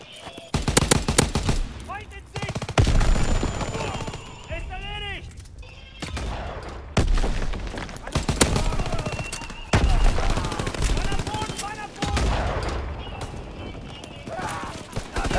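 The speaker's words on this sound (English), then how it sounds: "I'm killing people with the MG42." MG42 machine gun fire in the Call of Duty WW2 video game comes in repeated loud bursts of rapid shots between quieter gaps, with voices and game sounds mixed underneath.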